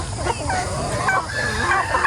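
Chickens on a small backyard farm cluck in short, overlapping calls, close and fairly loud, with a soft murmur of other farm noise beneath.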